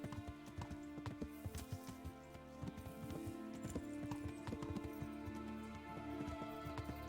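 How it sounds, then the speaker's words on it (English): Horse hooves clip-clopping at a steady walking rhythm across rough woodland ground in Kingdom Come: Deliverance, close and continuous, with an occasional whinny mixed in. "Not the correct terrain for a horse."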